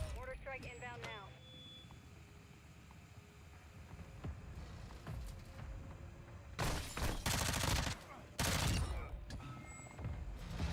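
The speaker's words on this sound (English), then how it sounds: "Mortar strike inbound now." A mortar strike lands in the Call of Duty DMZ video game as two heavy, explosive bursts of booming noise arrive a couple of seconds apart, after quieter gameplay ambience with a voice briefly heard early on.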